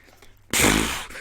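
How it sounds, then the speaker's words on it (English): A single loud, raspy fart bursts in after half a second of near quiet, rumbles for about half a second and then trails off abruptly, heard alone without talk. "And then it's just a fart."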